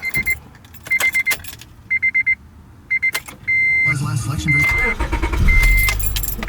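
A 2004 Acura TL (3rd generation) with about 126,000 miles starts up after a series of chimes and beeps, the engine catching with a rumble that settles into a close, steady idle.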